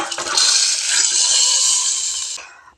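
Liquid pours steadily into a mango, drumstick, jackfruit seed and dried shrimp curry in a loud, rushing stream for a couple of seconds, then trails off.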